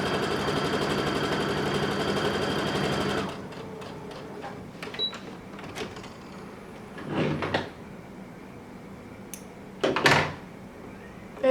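Gathering stretch fabric on a sewing machine fitted with a gathering foot: a steady, close mechanical whir for about three seconds, then it stops and leaves scattered handling clicks and rustles.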